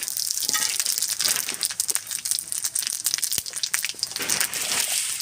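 Panch phoron whole spices sizzle and crackle in hot oil for tempering while a Bengali fish curry is cooked, a loud, steady hiss with dense pops and crackles throughout.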